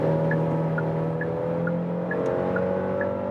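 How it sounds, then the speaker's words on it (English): Steady engine and road drone from a premium SUV accelerating from 90 to 120 km/h, heard from inside the cabin, with a low sustained hum and a faint repeating chime riding over it. "So let's now accelerate from 90 kilometers an hour to what?"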